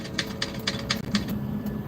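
Keys struck in quick, uneven bursts of crisp, close clicks, typing in a scene from the film Finding Forrester, with no voices over it.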